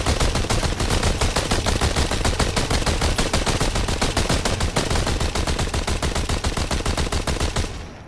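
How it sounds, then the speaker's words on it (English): Rapid rifle fire from Rangers in Call of Duty: Modern Warfare 2 Campaign Remastered rattles out as a loud, dense, evenly spaced burst lasting several seconds before cutting off abruptly. "let me show you how fast these rangers can actually shoot"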